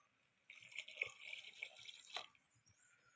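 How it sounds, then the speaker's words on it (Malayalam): Water is poured into a cooking pan of vegetables, a faint, steady splashing and trickling stream lasting a couple of seconds, heard quietly at a distance with no talking. "വെള്ളം ഒഴിച്ച് കൊടുക്കുക."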